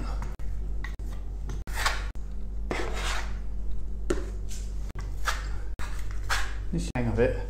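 A trowel spreads Autentico Volterra plaster across a wall in repeated close, rasping scrapes and smoothing strokes, separated by brief pauses, with someone talking over the work.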